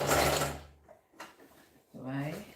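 A sewing machine joins a folded waistband with a half-inch stitch, in short bursts of mechanical whir separated by quiet gaps.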